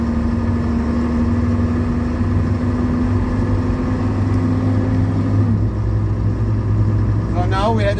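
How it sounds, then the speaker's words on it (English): Engine of a TGB 30/40 terrain vehicle with an automatic gearbox, running loud and close with a steady drone whose pitch drops midway as it upshifts, and a voice speaking briefly at the end. "So now we had a very early upshift, which is because the Poti is set to 18"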